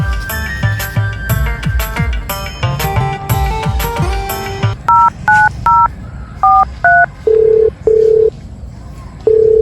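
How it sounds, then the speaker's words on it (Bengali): A telephone being dialed to call someone: a run of clear, evenly spaced keypad tones, each a short steady beep, follows a busier stretch of music and noise, with no talking. "তারা রোহিতকে ফোনটা লাগাচ্ছে"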